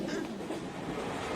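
Train running on rails, a steady rumbling roll with a broad low drone and faint rhythmic clatter, continuous and fairly close throughout.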